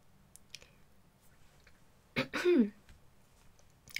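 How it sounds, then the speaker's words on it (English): A close single bout of throat clearing and coughing breaks a quiet stretch of faint clicks, short and harsh before the silence returns. "All these perfumes are making me cough."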